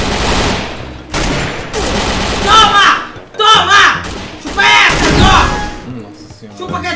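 Bursts of video game gunfire with repeated shots and thumps, loud and close, mixed with excited talking and shouting throughout.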